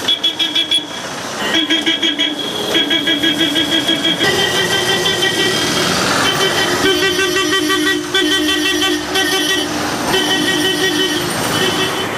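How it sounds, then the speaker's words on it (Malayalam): Vehicle horns honk in road traffic, short toots repeating in quick rhythmic bursts with longer blasts between, loud and near over a steady engine rumble. "അവരെ മറികടക്കാൻ ഈ ഹോൺ അടിച്ച് പേടിപ്പിക്കുന്ന ഒരു പ്രവണതയുണ്ട്"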